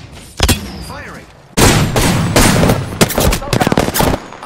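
Sharp bursts of automatic gunfire in the video game Apex Legends, a single crack followed by sustained rapid volleys and a final stuttering string of shots, loud and close, with faint game voices in the background.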